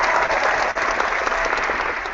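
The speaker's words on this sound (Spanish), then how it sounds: "Un aplauso," Audience applause, a dense, steady burst of clapping from a crowd, close and fairly loud, with no voices over it.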